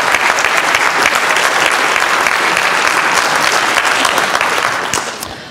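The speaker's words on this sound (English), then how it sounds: "Huge round of applause for Freetronics." Conference audience applauding during an opening session, a dense, steady wash of clapping hands that holds for about five seconds before starting to fade at the end.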